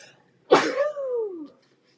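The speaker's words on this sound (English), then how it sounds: "I'm gonna sneeze." A single sharp sneeze bursts out, followed by a drawn-out voiced exhale that trails off, close and fairly loud, then silence.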